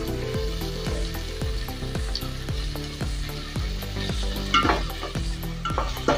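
Chopped tomatoes and green chillies frying in a pan for a vada curry, with a steady close sizzle and repeated rhythmic stirring scrapes throughout, no voices.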